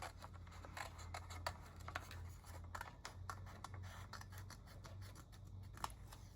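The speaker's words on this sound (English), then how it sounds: "And you're just going to cut along the line" Scissors cutting paper along a pencil line for a craft, a quiet series of crisp snipping and slicing crunches in an uneven rhythm, heard close.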